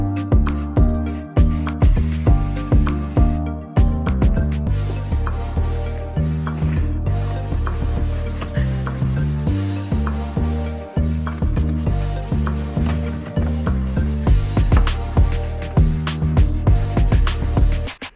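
Brisk, rhythmic rubbing strokes across car plastic trim during cleaning, repeating continuously and loudly close to the microphone with a few brief pauses.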